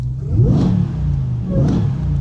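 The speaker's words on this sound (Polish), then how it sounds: "a w wnętrzu słyszymy oczywiście kompresor." A nearby supercharged RAM TRX truck engine revs up twice with a whirring, rising roar and supercharger whine, settling to a rumbling idle between bursts.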